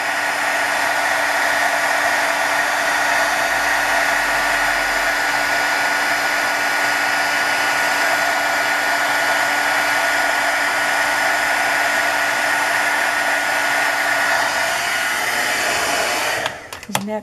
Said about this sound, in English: Don't want to get the heat gun too close to my hand.